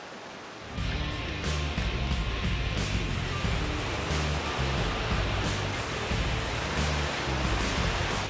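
A creek flows in a constant broadband rush of water, loud and close, steady from start to finish without talk.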